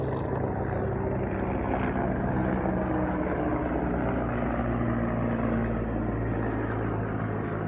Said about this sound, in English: Sorry about the helicopter.